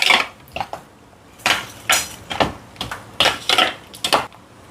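A spoon clatters in a bowl as two packets of paneer are mixed, giving repeated sharp scraping clinks in an uneven rhythm, close and fairly loud, with no talk.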